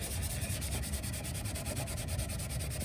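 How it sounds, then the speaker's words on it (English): A car bumper on a Supercharged G35 is hand-sanded with 600 grit sandpaper, giving a close, steady, rhythmic rubbing scratch in quick back-and-forth strokes, with no speech. "I got my 600 grit. I kind of just made it into a pie shape. Just gonna go down here, get all my 220 scratches out."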